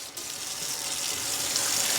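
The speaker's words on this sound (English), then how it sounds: "I have pot here because you're going to want to fill this up with water" Steady stream of tap water running into a pot for potatoes, a continuous broadband rush that grows slightly fuller as the pot fills.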